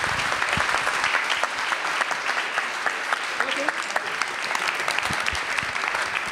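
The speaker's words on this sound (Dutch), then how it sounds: "Dames en heren, warm applaus voor niemand minder dan Mai Spijkers" Warm audience applause welcoming a guest onto a Dutch talk show stage, a steady dense wash of clapping throughout, full and continuous.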